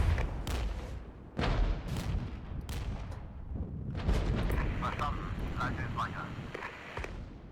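Artillery shelling rolls through a Regiments battle, with repeated heavy booms and blasts, some close and some distant, while someone talks over the barrage.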